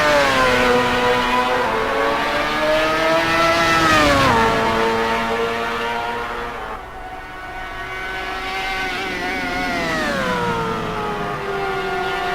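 Simulated race cars lapping Silverstone in a racing sim, a loud sustained engine howl with harmonics sweeping up and down through gear changes and corners, one car dominant throughout with a dip in volume midway.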